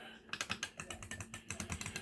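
Keys on a retro table top arcade machine are pressed in quick clattering bursts, a rapid series of close plastic clicks with a brief pause in the middle.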